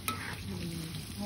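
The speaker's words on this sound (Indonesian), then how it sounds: "Tahu ini goreng" Tofu frying in hot oil gives a steady close sizzle and crackle, brief and continuous, with no talking.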